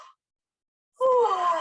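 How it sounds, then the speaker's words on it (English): A single voiced yawn, loud and close, rising after a brief breath and near silence, drawn out with an open-throated moaning tone during a singing-for-health breathing exercise. "So bring on a yawn."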